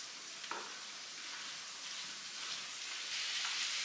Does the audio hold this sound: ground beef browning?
yes